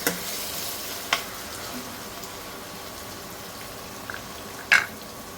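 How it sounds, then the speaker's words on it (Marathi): Tomato sizzling and frying in a hot spiced oil tempering with ginger-garlic paste, for a Konkani wet cashew curry, a steady low crackle with a few sharp clinks of a spoon stirring the pan, no talk. "टोमॅटो थोडा मऊ होईपर्यंत शिजवायचं आहे आपल्याला आता ह्या फोडणीमध्ये"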